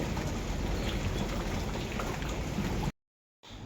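Steady rain pours down around a house under a dark sky, a dense, even hiss of drops on surfaces that holds for about three seconds, cuts to silence, then resumes.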